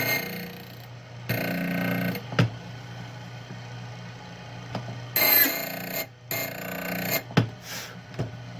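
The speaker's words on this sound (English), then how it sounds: "You can just hear it, man. Just barely scraping it." Faint scraping of a file rasping lightly across the cut of a metal bump key, in short repeated bursts with quiet pauses between strokes.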